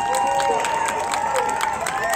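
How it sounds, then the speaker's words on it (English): Stadium crowd at a high school football game cheers and applauds the Blue Regiment marching band of Main East High School, a dense, steady wash of clapping and cheering with whistles and shouts on top. "keep the applause going"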